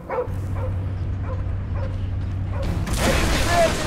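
Cosmo, the space dog in the Guardians of the Galaxy video game, gives a run of short, evenly spaced yips and barks over a low mechanical hum, until a louder burst of game noise swells at the end.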